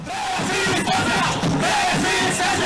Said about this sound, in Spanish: Ese es el grito de miles en Colombia.